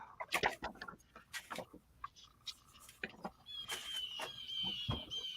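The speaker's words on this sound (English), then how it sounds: "Here we are listening to birds, and she can't even hear them." Chicken-like birds clucking nearby in a series of short, uneven bursts, mixed with rustling and handling noises from a paper-craft session and a brief stretch of higher chirping toward the end.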